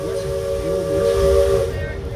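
An old gear-driven steam locomotive rounding a big right-hand curve on a mountain forest line sounds a loud, steady whistle over a continuous hiss of steam, with the whistle cutting off near the end.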